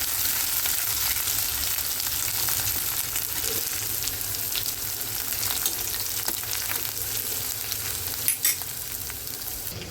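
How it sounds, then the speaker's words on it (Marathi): Homemade thecha chili paste sautéing in a pan for a spicy Agri-style curry, a continuous even sizzle and crackle close by with occasional stirring clicks, no voices. "आता हा जो ठेचा बनवला आहे ना तो टाक. बघू शकता तुम्ही ठेचा मी बनवलेला आहे. त्याला असं मस्त परतून घेऊ आपण."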